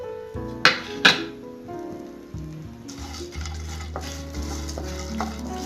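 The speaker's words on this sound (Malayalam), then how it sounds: "ചട്ടി ചൂടായിട്ടുണ്ട് ഇനി ഇതിലേക്ക് ചെമ്മീൻ നമുക്ക് ഒന്ന് ചേർത്ത് കൊടുക്കാം" Dried shrimp rattle and scrape as they dry-roast in a hot pan, with two sharp metallic clinks, then soft stirring and a faint sizzle.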